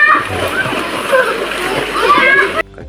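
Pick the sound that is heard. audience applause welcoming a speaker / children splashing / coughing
children splashing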